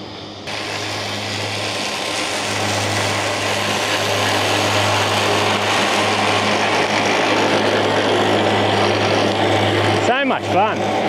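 Raymo electric remote-controlled mower running with its blades on at high cut speed, a steady loud whirring hum throughout, with brief voices near the end.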